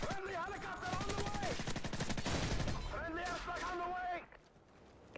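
Rapid automatic gunfire crackles in Call of Duty 4: Modern Warfare, a dense stream of shots running for about four seconds under a raised, singing-like voice, then dropping off sharply.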